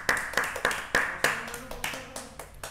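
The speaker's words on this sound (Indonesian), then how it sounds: "kita tepuk tangan yuk." A small group claps hands at a gaming rental spot, about nine sharp, evenly spaced claps close by, slowing slightly and fading a little toward the end.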